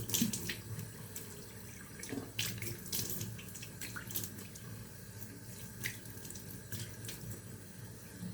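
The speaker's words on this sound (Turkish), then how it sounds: "Soğuk suyla yıkayalım." Tap water runs steadily into a sink while a freshly shaved face is rinsed, with soft splashes and drips breaking the moderate, continuous flow and no talking.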